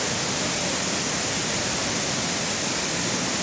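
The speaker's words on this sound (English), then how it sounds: "But this is just a magnificent waterfall" Burney Falls in northern California, a broad, constant roar of falling water heard up close, dense and unbroken with no pauses or other sounds.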